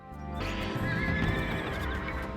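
A horse in Age of Empires 2 Definitive Edition gives a loud, clear neigh with clip-clopping hooves beneath it, running for about two seconds with no talking.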